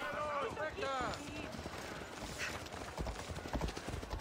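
Horse hooves clip-clopping in Assassin's Creed Odyssey, a steady rhythmic trot under a busy game soundscape of music and effects, with someone talking over much of it.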